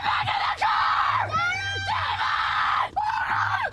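Loud, strained screaming from The Mist (2007) film scene, several piercing cries in bursts with short breaks, close and harsh, with some crowd-like yelling mixed in.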